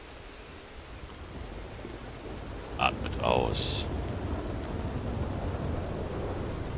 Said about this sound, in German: Hört, wie das Gewitter aufzieht.